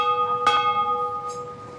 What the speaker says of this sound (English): If you see one of these bells, it's good luck to come by and ring it.